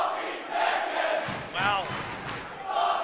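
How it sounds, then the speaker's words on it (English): A wrestling arena crowd reacts with a broad, sustained roar of voices and shouts that swells and ebbs in waves, rising sharply partway through, with no clear speech on top. "listen to the crowd"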